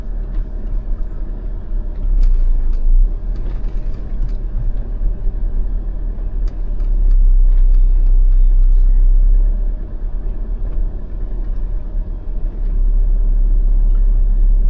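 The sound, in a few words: 2025 Jeep Meridian driving in 4-wheel drive through slush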